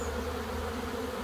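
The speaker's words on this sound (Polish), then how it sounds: "oblot młodej pszczoły." Honeybees swarm around hives during young bees' afternoon orientation flight, a dense, steady, close buzzing drone with no pauses.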